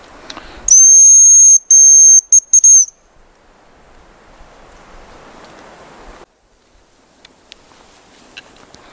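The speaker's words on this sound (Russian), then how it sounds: "Это просто отлично, когда рябчик свистит." A hazel grouse whistles in autumn taiga during a walking hunt: a thin, high, piercing whistle, loud and held for about two seconds in a few broken bursts, then quiet forest with faint rustling.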